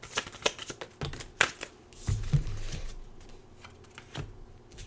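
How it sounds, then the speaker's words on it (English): Oracle cards being shuffled and pulled from the deck: a run of crisp riffling snaps and soft papery slides, close and fairly quiet, with a few light taps. "Just pulling some oracle cards for you."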